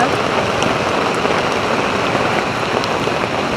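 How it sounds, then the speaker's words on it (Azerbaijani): Heavy rain pours steadily in a constant dense hiss with scattered drop impacts, close and loud throughout, with no talking. "Əməlli güclü yağır."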